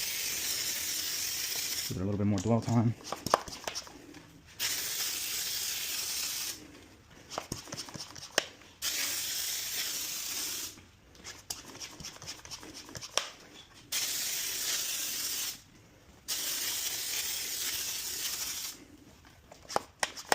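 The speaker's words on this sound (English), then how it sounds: "I'm going to spray a little bit more in those areas that had a little bit more grit" A rinseless car wash cleaner is sprayed onto a car's grimy areas in about six distinct hissing bursts, each lasting one to two seconds and separated by short pauses, with a person speaking briefly between them.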